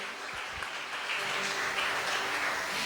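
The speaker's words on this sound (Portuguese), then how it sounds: "Aplauda o Senhor nesta noite." A church congregation applauds during a Sunday night worship service, a soft, continuous wash of many hands clapping at a distance, with faint voices underneath.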